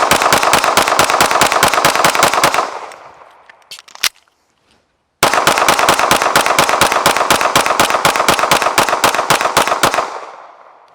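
A Sig Sauer P365-FUSE pistol fed from 21-round magazines fires long rapid strings of sharp, evenly spaced shots, loud and close, with a short pause in the middle before another fast burst resumes.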